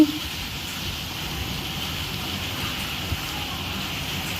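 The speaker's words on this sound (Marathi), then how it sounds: "पाऊस चालू झालाय" Steady hiss of rain falling continuously during a sudden cyclone storm, a dense even patter with no pauses.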